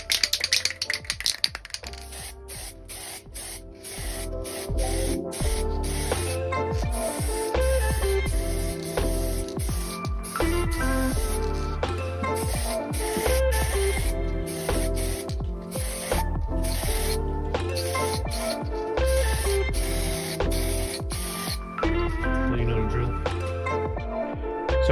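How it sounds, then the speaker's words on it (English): A spray can hisses steadily while painting motorcycle parts for a Honda GL500/CX500 in cold weather. The hiss is continuous and fairly loud, broken by brief gaps, and rhythmic rattling and clicking runs through it. "And then just need to get the correct spray can."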